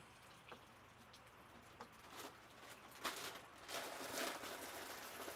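Cold, overcast rain falling outdoors in Arkansas, scattered raindrops tapping and pattering on surfaces at a faint, distant level, growing slightly denser toward the end, with no voices.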